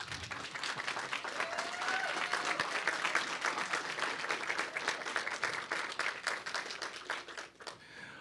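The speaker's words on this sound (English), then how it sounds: "Applause." Audience applause at a university roundtable conversation event, a steady dense wash of many hands clapping that holds for about eight seconds before thinning out near the end.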